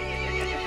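A horse in the Resident Evil Village video game lets out a loud, close, sustained whinny that fills the whole short moment, heard alone without talk.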